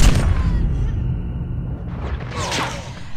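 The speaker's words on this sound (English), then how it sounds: "Friendly airstrike incoming." Airstrike explosions in COD Mobile land as a loud, low booming rumble at the start, fading into a sustained roar with a second burst of crackling debris near the end.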